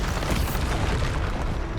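A Bombarda spell bursts in Hogwarts Legacy, a dense, loud rumbling boom that fills the short moment with broad noise and no pause.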